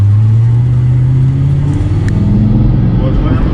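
A drift car revs hard on a drift course in Logatec, its loud, close engine note climbing and holding steady as it drives a random layout, with people talking over it.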